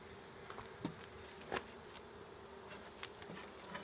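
Honey bees buzzing around a nuc box, a steady close insect drone with a few sharp taps and knocks on top and no talking.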